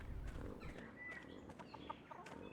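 A farmyard chicken in the video game Pentiment gives soft, scattered clucks, quiet and fairly close, over a faint background with no talking.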